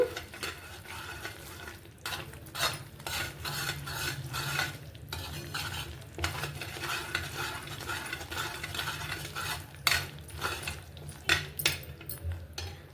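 A ladle repeatedly scrapes and stirs thick Mysore pak mixture in oil in a pan, bursts of scraping over a soft sizzle, steady and close throughout.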